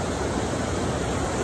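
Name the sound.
river water flowing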